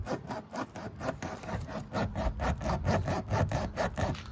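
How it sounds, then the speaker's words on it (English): Rhythmic back-and-forth scraping as a punctured tire's rubber is cleaned of rust and debris, steady strokes about two per second, close and fairly loud with no talking. "I'm just cleaning the rubber, so all rust or debris will come out"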